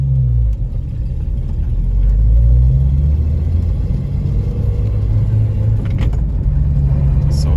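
A Jeep XJ Cherokee on a road test drive gives off a loud, steady low engine rumble and road drone heard from inside the cab, swelling slightly as it accelerates, with faint clicks near the end.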